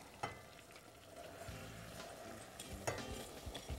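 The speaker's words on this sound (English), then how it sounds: "you pour in your sugar and flour mixture" A sugar and flour mixture is poured into a pot of boiling water and stirred, giving a soft, steady bubbling hiss broken by a few light scrapes and clinks. No one talks.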